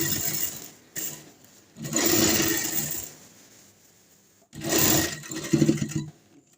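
A sewing machine stitches elastic onto palazzo pants in two separate bursts of running, each a few seconds long. A quieter pause falls between them, and no one talks.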